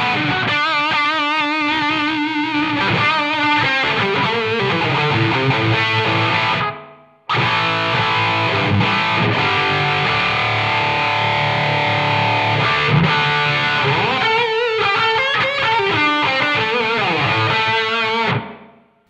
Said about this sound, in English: So it's got a room reverb on that.